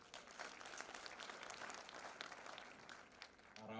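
Applause at a polytechnic graduation ceremony, a steady dense clapping from a seated crowd heard somewhat far off and fairly faint, holding even for several seconds.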